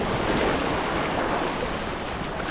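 Ocean surf crashing steadily against a rocky jetty, a loud, continuous roar of breaking water with wind buffeting the microphone.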